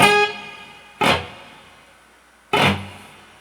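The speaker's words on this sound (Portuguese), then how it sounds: "Então esse é o som do reverb" Acoustic guitar played through a reverb patch on a Boss GT-100 multi-effects unit, with a soundhole cover fitted to cut feedback: three strummed chords, each ringing out in a long, smooth reverb tail, loud and alone.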